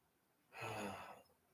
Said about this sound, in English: Sorry for all the yawning.